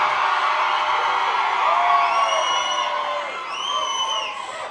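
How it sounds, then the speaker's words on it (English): Loud crowd cheering and whooping at the Grizzly Rose, a dense sustained roar with high shouts and whistles rising above it, close and continuous throughout. "this is one of the loudest crowds I've heard at the Grizzly Rose ever"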